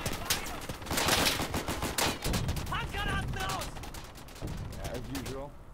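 Sniper and rifle gunfire crack repeatedly in the World War II shooter Day of Infamy, mixed with other battle noise and brief voice fragments, loud and dense throughout.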